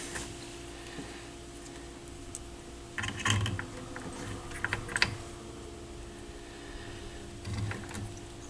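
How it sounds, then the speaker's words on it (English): Small clicks and scraping taps come as a screwdriver fits the controls back into a Marantz 2275 stereo receiver, with short bursts of handling noise near 3 and 5 seconds over a quiet background hum. "what I'm doing now is just screwing the controls back in"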